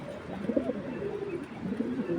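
Large Giribaj pigeons coo inside a cage, a few deep throaty rolling calls up close, repeating in short phrases over a quiet room.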